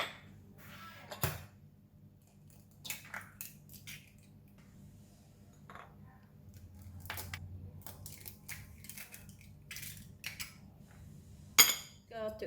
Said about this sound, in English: we're going to start off with just beat the egg first